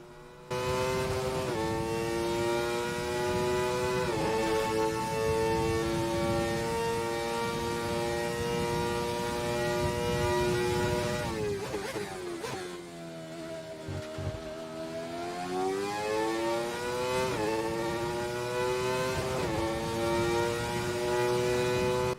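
A V12 or V10 Michael Schumacher F1 car in the F1 2020 video game screams loudly down the straights through rapid upshifts. Midway it drops sharply as it brakes and downshifts for a corner, then climbs back up to a high-revving howl.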